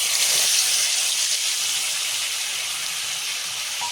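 Spice paste sizzling in hot oil with black cumin seeds for a Bengali potoler dorma, a steady loud hiss and crackle that holds evenly throughout with no talking.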